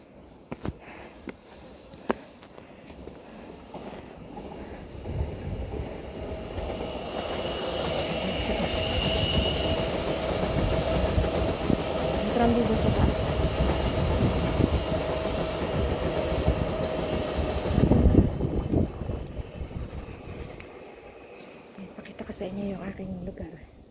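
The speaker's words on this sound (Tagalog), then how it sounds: "Sa tram." Tram ride in Paris, with steady rumbling wheels and car noise building as the tram gets under way, squeals and clatter along the track, then easing off toward the end, with voices talking at times.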